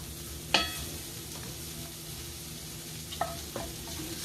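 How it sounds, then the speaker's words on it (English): Vegetables for a Mexican-style bowl sauté gently in a pan with a faint, even sizzle, broken by a few sharp clinks of a utensil against the pan. "Just let it saute for another minute"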